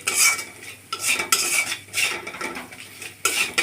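A spoon scrapes and clinks against a pan in uneven bursts as a spiced potato mixture with gram flour is stirred, loud and close, with no talking.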